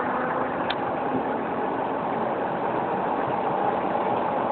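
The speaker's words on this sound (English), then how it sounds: "You hear that turbo?" A Mazdaspeed6 turbo car engine runs steadily and loud from start to finish, a dense continuous rumble with no pauses and a faint high turbo whine riding on top.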